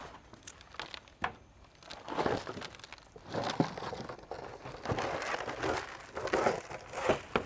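Cut-away plastic pot being pulled off a large houseplant's root ball: irregular crinkling and crackling of plastic in bursts, close by and fairly quiet.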